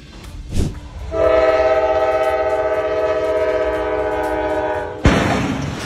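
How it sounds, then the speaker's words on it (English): A loud, sustained train horn blares for several seconds with a harmonic chord, ending in a sharp crash-like burst as the train strikes a semi-truck at a crossing in Marion, Ohio. "Train hit semi-truck in Marion, Ohio."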